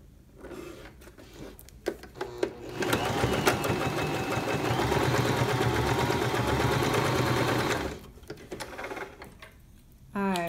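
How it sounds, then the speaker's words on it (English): A home sewing machine runs a long basting stitch, its steady motor whir and rapid needle clatter holding for about five seconds between brief starts and stops, close and fairly loud. "Let's turn this all the way up to the basting stitch."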